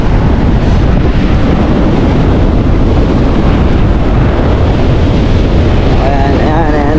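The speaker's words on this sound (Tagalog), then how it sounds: "Tinutulak na kami ng hangin. Sobrang lakas talaga." A typhoon gale blows hard across the sea near a river mouth, a dense, steady roar with heavy buffeting on the microphone. A voice rises briefly over it near the end.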